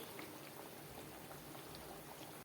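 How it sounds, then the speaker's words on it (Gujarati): Semolina biscuits frying in oil on low gas give a steady, dense bubbling sizzle that runs evenly throughout and cuts off abruptly at the end, with no talking. "હવે બિસ્કિટને આપણે બંને સાઈડમાં ફેરવતા જઈએ અને ધીમા ગેસ ઉપર તેને તળી લઈએ."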